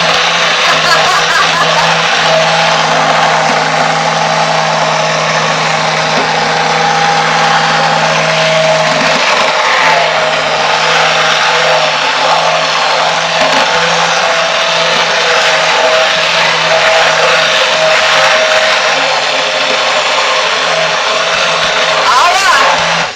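A blender mixes a batch of homemade coconut milk soap, its motor giving a loud, constant whirring drone for over twenty seconds while people talk over it.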